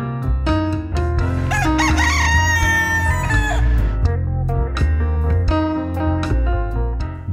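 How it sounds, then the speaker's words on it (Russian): Free-roaming roosters on a busy street in Jaffa, Israel, crow loudly and close by in a long drawn-out call, set against dense tonal background sound. "Свободные поющие петушки на оживленной улице Яффа."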